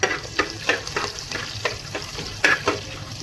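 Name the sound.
green chillies frying in oil for vegetable bath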